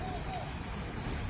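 A Volvo bus pulls into a bus depot at 8:40 in the morning, its engine rumble steady and moderately close, with a constant low road-vehicle drone throughout.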